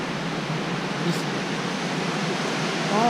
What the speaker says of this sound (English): Another waterfall. The snow from the mountain is just melting like crazy.